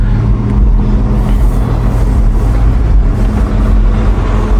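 Porsche 911 engine droning steadily from inside the cabin while driving, a loud continuous low rumble with a constant hum and no talk over it.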